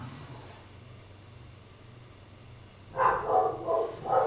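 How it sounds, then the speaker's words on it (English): After a quiet stretch, a dog barks several times in quick succession, moderately loud and slightly distant. "There's my dogs barking."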